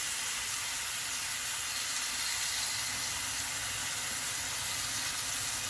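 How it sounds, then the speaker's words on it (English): Beef sears in a hot pan with a steady, dense sizzle and hiss that holds unbroken throughout, with no voices over it. "We're gonna sear that one on one side."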